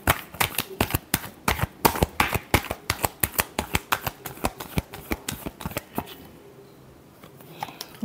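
Tarot cards being shuffled during a weekly horoscope reading, a rapid series of crisp papery riffles and taps for about six seconds, close and fairly loud, then a quiet pause with no talking.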